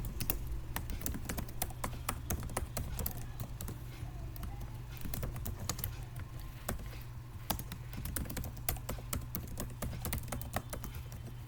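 Rapid, steady keystrokes on a computer keyboard as Java code is typed, close and continuous over a low background hum.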